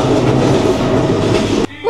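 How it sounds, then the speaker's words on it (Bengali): A passenger train pulls out of a station with a loud, steady rumble and clatter of wheels close by, the roar cutting off abruptly near the end. "একদম লাস্ট মোমেন্টে উঠতে পারছে, ট্রেনটা ছাড়ে দিচ্ছে"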